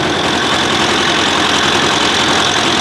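A European farm tractor's engine idles close by on an autumn farm, a loud, steady rumbling drone with a slightly rough knocking texture and no voices over it.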